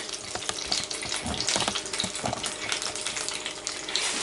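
Chicken pieces frying in a pan give off uneven crackling and spitting, with scattered sharp pops and a bubbling sizzle close by, at a fairly low level.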